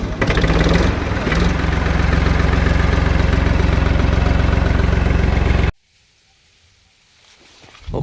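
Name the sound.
tractor engine idling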